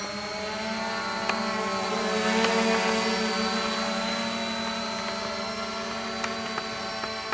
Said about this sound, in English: makes the drone fly really easily.